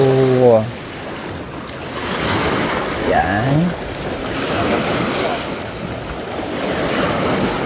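Sea waves during a boat trip to Gaspar Island, heard as a steady wash of surf and wind rushing across the microphone, with someone speaking briefly at the start and in the middle.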